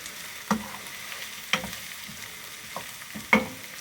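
Onions frying in a pan: a low, steady hiss with a few sharp scrapes and knocks of a utensil at irregular intervals, fairly quiet, with no talk.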